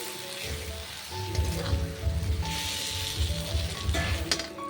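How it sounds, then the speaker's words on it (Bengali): Fried potatoes are stirred into mutton curry in a pot over a clay stove, with a steady sizzle, irregular scraping and clinks as the mixture is turned, and no talking. "ভালোভাবে আলুটার সাথে মাংসটা মিশিয়ে নিচ্ছি"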